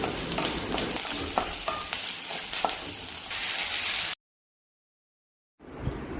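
Chopped onion pieces frying in a pan for okra fry, a steady close sizzle with stirring scrapes for about four seconds, then a sudden silence before the sizzle briefly returns.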